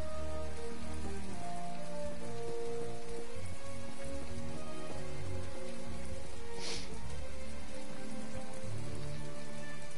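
Steady rain falls in the video game My Time at Portia, a dense, even patter of drops on surfaces lasting the whole stretch, with one brief brighter splash partway through.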